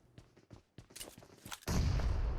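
In the mobile battle-royale game PUBG Mobile, a loud explosion bursts near the end, a heavy rumbling blast following a few sharp, quick game sounds.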